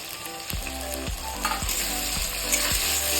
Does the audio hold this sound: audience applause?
no